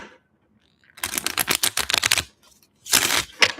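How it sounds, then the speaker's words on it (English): Tarot cards are riffled and shuffled close by, a quick burst of crisp flicking rattles, a short pause, then a second shorter flurry in a quiet room. "One more shuffle for group 3."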